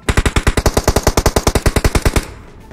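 Rapid automatic gunfire from a weapon in PUBG Mobile, a steady burst of about twenty sharp shots fired close and loud, then a short fading tail.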